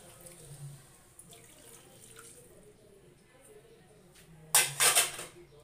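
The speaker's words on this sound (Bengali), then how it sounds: "এই যে সেই গরম জল দিয়ে দিচ্ছি, এখানে পরিমাণ মতো গরম জল দিয়ে দেব" Hot water is poured into a pan of frying meat near the end, making a brief, bright splashing hiss after a quiet stretch of kitchen background.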